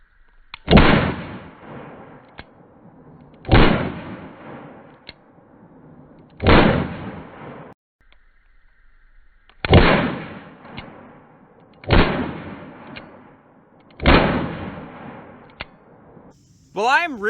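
Six loud, close .38 Special gunshots are fired one at a time at a few seconds' interval, using low-pressure, standard and +P rounds, each sharp crack followed by a brief echoing decay.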